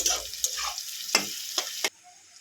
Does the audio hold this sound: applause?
no